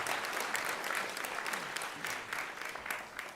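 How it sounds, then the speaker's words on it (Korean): Applause from the audience at a university graduation and degree ceremony, honoring award winners; a sustained, full crowd clapping in a hall, even and fairly loud from start to finish. "수상자들에게 다시 한번 뜨거운 박수로 축하해 주시기 바랍니다."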